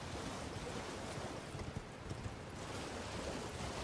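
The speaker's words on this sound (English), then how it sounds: "So is it that waterfall up there?" A waterfall in the video game Elden Ring sends a soft, continuous rushing roar from some distance, steady and broadband with no voices over it.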